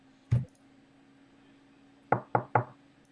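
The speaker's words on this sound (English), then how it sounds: "I politely knock on the door" Knuckles rap on a tall wooden door during a tabletop role-playing session: one single knock, a pause, then three quick knocks in a row, close and crisp against a quiet room.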